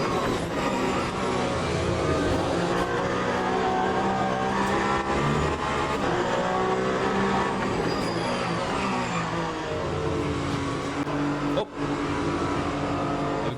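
Peugeot race car in the Le Mans Ultimate racing game, its engine droning loud and steady throughout with shifting revs, a brief dip near the end.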